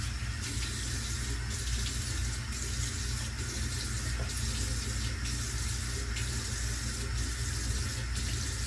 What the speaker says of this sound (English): So let me wet my face right quick.